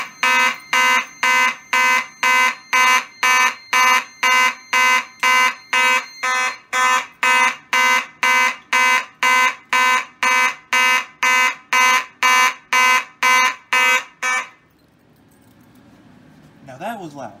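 Two fire alarms set off by pulling their pull stations blare together in a fast, steady pulsing pattern, very loud and close, then cut off abruptly, leaving faint handling noise.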